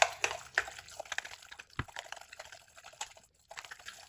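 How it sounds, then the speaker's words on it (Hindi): Oil is poured into a cabbage and rice mixture, making faint, close liquid trickles and drips in short, uneven bursts. "अब यहाँ पे मैं ऑयल डाल दूंगी"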